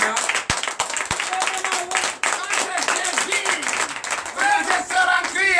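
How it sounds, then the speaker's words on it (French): A church congregation at a night prayer service claps and cheers in acclaim, sharp claps and crowd shouts mixed with loud voices throughout. "Donnez l'acclamation à Jésus"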